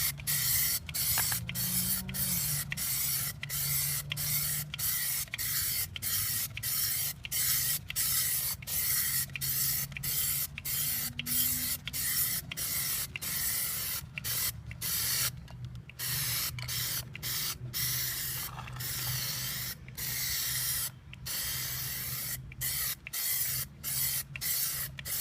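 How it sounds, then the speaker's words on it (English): Long steady hiss of an aerosol can spraying Plasti Dip onto a Porsche 991 wheel, broken by frequent brief pauses between short and longer bursts, close up with no talking. "So I'll just start spraying this."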